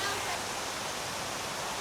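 Water splashing in a city park fountain in Charleston, South Carolina, a steady broadband rush of falling water, fairly loud and continuous.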